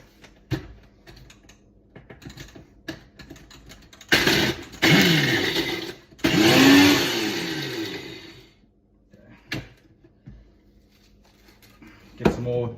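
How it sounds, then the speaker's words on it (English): NutriBullet blender mincing biscuits, two short loud whirring bursts with grinding rattle, separated by a pause, amid clicks and clatter of handling the container before and after. "So we are switching to the NutriBullet, which means we can only do it in smaller loads."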